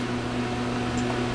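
A regular household oven in a home kitchen runs with a steady, even hum and fan-like whir, holding a constant level throughout with no speech.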